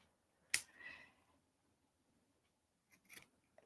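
Scissors clip fabric while buttons are being sewn on, giving two sharp, close snips: one crisp cut early, then a quieter double snip about two and a half seconds later, in an otherwise quiet room.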